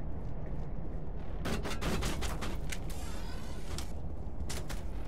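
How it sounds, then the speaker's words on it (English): Gunfire in Mass Effect 1 Legendary Edition during a firefight: rapid clusters of sharp shots crackle over a steady, loud background rumble of combat, with no voices. "Shots fired"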